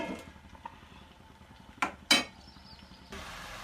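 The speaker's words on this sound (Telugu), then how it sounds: "కొంచెం సేపు మూత పెట్టుకోవాలి" A metal lid clanks down onto a cooking pot of lacinato kale and fenugreek greens with two sharp metallic knocks close together. Quieter kitchen clinks and a soft hum come before and after.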